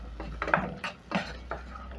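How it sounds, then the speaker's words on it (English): A spoon scrapes and knocks against a pot while beef stew ingredients with oyster sauce and soy sauce are stirred together, giving a few close, irregular clinks and scrapes over a low background hum. "Mix everything together"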